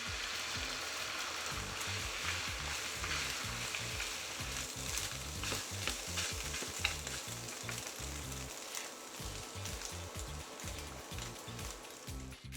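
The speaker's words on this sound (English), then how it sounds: "Then I'll push them to the side and chuck the eggs in." Eggs and chopped peanuts fry in a hot pan for a noodle stir-fry, giving a steady, dense sizzle and crackle throughout, with occasional soft stirring scrapes and no talking.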